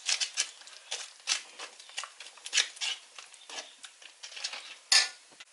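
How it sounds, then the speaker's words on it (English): Spoon scraping and tapping against a pan while stirring vegan bouillon powder into a creamy sweet potato pumpkin coconut curry sauce, irregular light clinks and scrapes, close and fairly quiet. "So I'll just stir that in."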